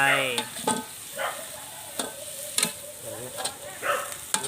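Thai eggplant stir-fried in a wok, with a steady sizzle and repeated sharp scrapes and clacks of a utensil against the metal, close and fairly loud, with no talking.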